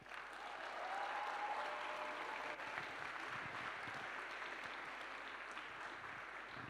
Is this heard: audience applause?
yes